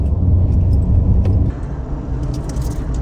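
Car engine rumbling from inside the cabin as the vehicle picks up speed on a road, a steady low drone with a slight drop in level partway through and faint rattles.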